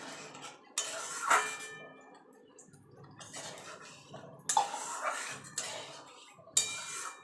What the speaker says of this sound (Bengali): এবার আমি একটুখানি জল দিয়ে দেবো যাতে মশলাটা পুড়ে না যায়।